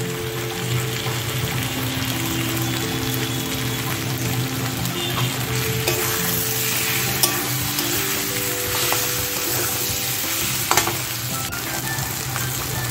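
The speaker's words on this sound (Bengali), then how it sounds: "এবার আলু আর চিংড়ি মাছটা দিয়ে দেবো।" Potatoes and small prawns fry in a pan for a Bengali green jackfruit and prawn curry, with a steady, dense sizzle and occasional stirring clatter running evenly throughout.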